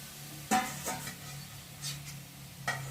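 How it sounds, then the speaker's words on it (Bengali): A spatula stirs fried potatoes with soya chunks in a pan. Occasional clinks and scrapes against the metal sound over a faint, steady sizzle, with a few distinct knocks spaced apart. "এখন ভেজে রাখা আলুগুলোকে দিয়ে ভালো করে সয়াবিনের সাথে কষিয়ে নিই।"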